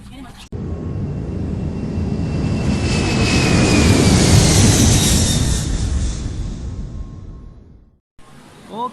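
Steady broadband roar inside an airplane cabin on a flight to Korea swells and fades over several seconds, loud and continuous, then cuts off abruptly.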